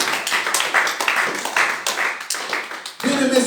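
A church congregation claps and applauds in a steady, loud burst of many hands, with a voice and some singing or music rising over the clapping near the end.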